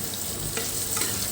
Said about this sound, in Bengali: উচ্ছে ভাজাটা হয়েই এসছে, কড়কড়ে করে উচ্ছে ভাজা